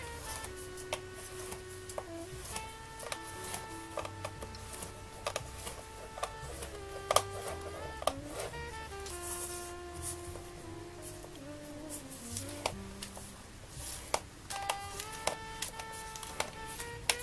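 A tool scoring paper every quarter inch on a scoring board, giving a series of light, sharp ticks and clicks at an uneven pace, with faint scraping and rustling between them.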